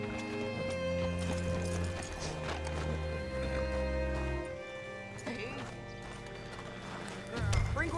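Horse hooves clip-clopping in the Red Dead Redemption 2 video game, a series of close, fairly loud rhythmic hoof clops with a whinny, set over a sustained low musical drone.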